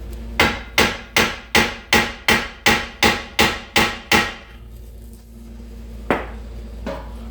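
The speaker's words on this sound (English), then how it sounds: "I'm going to give this one a nice hit with the hammer" A hammer strikes a rear trailing arm axle on a Buick Encore with ten sharp, evenly spaced metallic blows. They come in a steady rhythm, and two lighter, isolated taps follow after a short pause.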